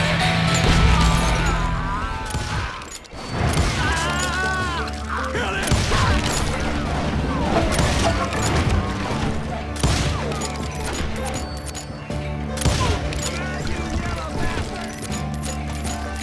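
Hired guns unleash a sustained fusillade in Call of Juarez Gunslinger, loud rapid gunshots cracking one after another near a barn, with clattering impacts and mechanical clicks throughout.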